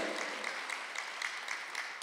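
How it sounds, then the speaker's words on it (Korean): A congregation applauding during a Sunday worship service in a Korean church, rhythmic unison clapping on a steady beat, loud and close, with no talk over it. "박수하세요"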